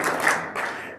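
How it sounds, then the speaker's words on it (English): A crowd at a fathers' event delivers a single collective clap, a dense burst of many hands that fades within a second. "One clap."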